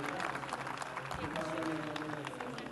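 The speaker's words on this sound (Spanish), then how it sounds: "para quien le pido también a nuestra concurrencia un amable aplauso" Applause from the audience at a panel discussion on how social networks influence the economy, with a steady wash of clapping and some crowd noise running throughout and sounding moderately far away.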